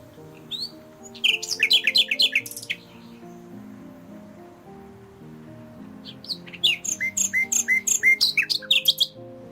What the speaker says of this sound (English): Nightingales sing even more loudly in urban or near-urban environments, in order to overcome the background noise.